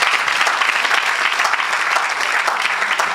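Church congregation applauding together in sustained, dense clapping that stays loud and even throughout, with no voices standing out.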